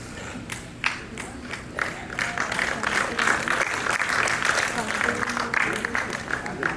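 Audience applause at an environment protection commission session, with many hands clapping in a steady, full wash. Crowd noise and a voice run beneath it, and it swells slightly toward the middle.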